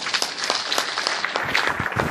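A crowd of season ticket holders claps together at a football talk event, producing a brisk, continuous patter of many hands that holds at a fairly loud level from start to finish, with no talking over it.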